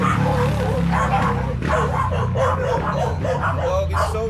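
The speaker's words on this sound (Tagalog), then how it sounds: "The dog is so noisy." A dog barks and yips repeatedly in a workshop where a Kawasaki Z400 motorcycle is being serviced, the sharp yaps coming in a quick irregular run close by over steady background noise, with talk mixed in.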